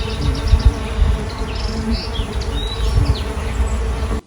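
Solitary bees buzz at nest holes in a mud-filled nesting block, with males searching for females and females starting to lay eggs; a steady, close insect drone with several overlapping buzzes and no talk.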